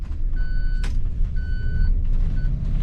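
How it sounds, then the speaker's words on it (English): A steady electronic turn-signal beep sounds three times at an even pace inside a 2011 Newell motor coach, over a constant low engine rumble. "So that beeping noise turns on when I turn the turn signal on."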